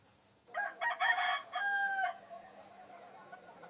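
A rooster crows once, a loud broken call lasting over a second, then fades into quiet background hiss.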